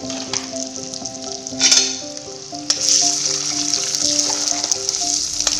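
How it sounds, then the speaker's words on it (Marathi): Chili powder frying in hot oil for egg curry gives a steady, close sizzle with no talk, swelling briefly at two points, while a faint steady tone runs low beneath it. "सारखे भाजून घ्या म्हणजे तुमकां बरी कलर येतली तेजी"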